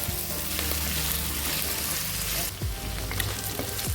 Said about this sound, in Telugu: ఇప్పుడు బంగాళాదుంపని ఒక రెండు నిమిషాల పాటు ఫ్రై చేసుకుందాం